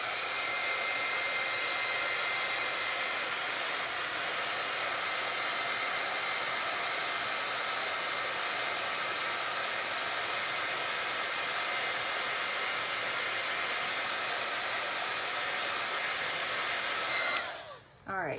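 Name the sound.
heat tool heat-setting white ink on a craft project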